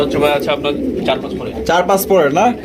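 A yellow magpie pigeon coos in short, close, loud throaty phrases, mixed with nearby voices talking.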